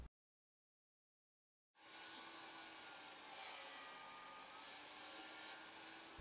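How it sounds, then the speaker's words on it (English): A table saw cuts one shoulder of a joint in a wooden board guided by a miter gauge, starting after nearly two seconds of silence as a steady close whining buzz with a bright rasping edge while the blade passes through, no speech. "cut one shoulder of the joint using my miter gauge"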